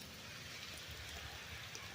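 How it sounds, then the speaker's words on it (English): A soft, steady patter of light rain falls on a vegetable garden with carrots, making a faint even hiss with a few clearer drops. "It's raining a little harder, but I'm going to grab some of these carrots."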